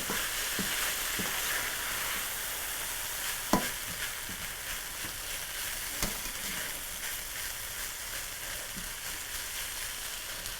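A spatula stirs stir fry through a hot pan in a home cooking setup, with a steady sizzle broken by a few sharp scrapes and clinks of the utensil against the pan.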